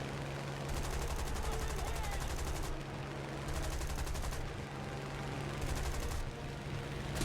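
An enemy rear gunner's machine gun fires in bursts in War Thunder during a Spitfire Mk 1 dogfight, three sustained rattling volleys over a constant engine drone.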